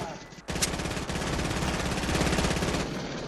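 Fortnite gameplay with rapid automatic gunfire, a dense rattling burst that runs almost continuously for about two and a half seconds, loud and close.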